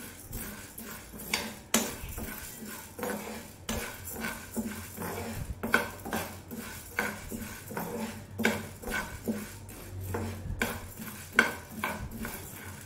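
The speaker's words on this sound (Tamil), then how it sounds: "லோ ஃப்ளேமில் வச்சு வறுத்துக்கோங்க." Urad dal is dry-roasted on low flame in a pan, a close, steady patter of rattling lentils and repeated clinking strokes of a metal spoon against the pan, with no talking.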